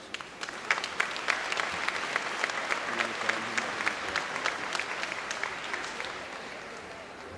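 Sustained applause from a university spring commencement crowd at Fort Valley State University, many hands clapping steadily for several seconds, dense and fairly loud, tapering slightly toward the end.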